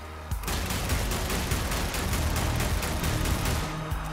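Zombie Army 4 gunfire mows down zombies in a loud, relentless automatic stream of rapid shots that starts abruptly and keeps going with no pauses for several seconds.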